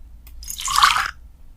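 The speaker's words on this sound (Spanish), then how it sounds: "tenemos que tomar el matraz con agua y vertir el contenido en el Erlenmeyer" Water is poured from one flask into a glass Erlenmeyer flask during a physics lab on the latent heat of melting ice, a brief close splash lasting about half a second.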